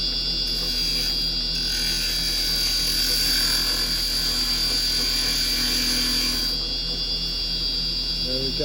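Carbide chisel taking a shear cut on wood spinning on a lathe while turning a clock, a steady continuous whirring hiss with a high whine over low motor hum, close and even throughout.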